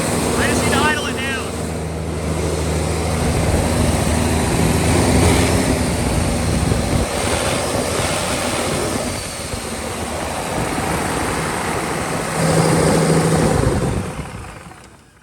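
A Cummins diesel engine in a burnout truck build idles high with a loud, steady drone that dips slightly midway, swells again near the end, then fades, while people talk over it.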